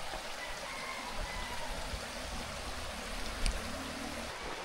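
A clear river flows near the trail to Balagbag Falls on the Agos River: a steady, broad rush and trickle of water with no break, moderately loud and close, alone without talk.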